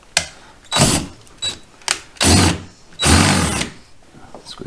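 A power drill with a 3/8 bit bores holes while installing Power-Pole and anchor gear on a Hobie Compass kayak, several loud whirring bursts of varying length separated by short pauses.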